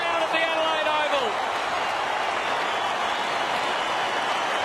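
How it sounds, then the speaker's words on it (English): A large crowd roars and cheers at Adelaide Oval during an AFL football match between Fremantle and Port Adelaide, a loud sustained wall of noise while a commentator talks over it. "And the raptures of the crowd at the Adelaide Oval."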